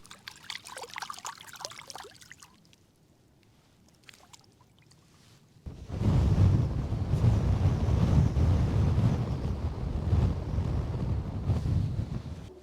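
Strong wind gusting across a lake, starting as a faint, light rustle and then swelling abruptly into a loud, steady roar with buffeting at the microphone; no talking.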